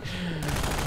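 Rapid gunfire bursts from a Strider in the Half-Life 2 video game, heard as a sharp, loud crackling rattle that kicks in partway through a short moment of explosive combat noise.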